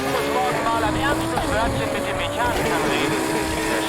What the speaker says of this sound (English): Obviously, we already have the engine from the Huracan. Sounds amazing.